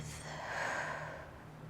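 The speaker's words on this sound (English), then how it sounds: "Breathing in through the nose and releasing out from the mouth." A person in a calm yoga practice draws a slow breath in through the nose and lets it out through the mouth, one soft steady airy breath close by in a quiet room.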